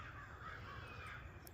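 Crows cawing outdoors in a garden during a nor'easter, a faint steady stretch of calls set back in the distance against wind and background noise, with no voices.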